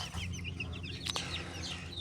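Eight roosters and other chickens cluck and call close by, short repeated bursts over a low steady hum.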